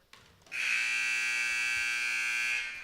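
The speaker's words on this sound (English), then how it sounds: "And that is the final buzzer." After a brief quiet moment, a loud, harsh electronic buzzer sounds at the end of a high school basketball game and holds steadily for about two seconds before stopping.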